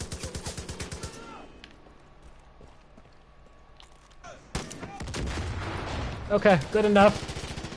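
Gunfire from snipers and a heavy gunner in the video game Far Cry 5, several loud clustered shots toward the end after a quieter stretch, with someone talking briefly over the action.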